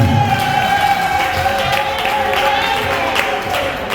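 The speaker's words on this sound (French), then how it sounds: "Est-ce que nous pouvons applaudir fortement pour madame" Audience applause at an event, a dense continuous wash of clapping and crowd noise filling the room at steady loudness from start to finish.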